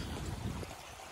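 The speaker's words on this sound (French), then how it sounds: "Voilà le ruisseau sur lequel il est posé." A small stream flowing beneath a crashed, damaged plane wreck found while exploring an abandoned site: a soft, steady wash of running water, continuous and fairly faint, with no voices.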